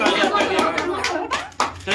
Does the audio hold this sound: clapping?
yes